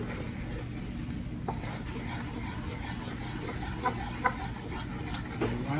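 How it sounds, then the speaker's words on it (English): A flour roux sizzles in a pan while it is stirred, giving a steady frying hiss with occasional soft scrapes and clinks of the utensil, and a voice talks briefly over it. "Gotta cook it. Cook the taste of that flour out. Now just keep stirring."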